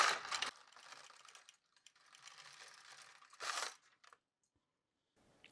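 An LK150 knitting machine carriage pushed across a row, producing bursts of clacking, rattling mechanical noise separated by short pauses, close and moderately quiet.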